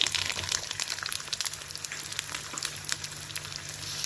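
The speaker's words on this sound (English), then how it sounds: "After the mustard splatters, I'm going to add in the ginger, the garlic" Ginger and garlic sautéing in hot oil with spluttered mustard seeds for amla pickle: a steady, close crackling sizzle with scattered spits and pops that runs throughout, with no talk.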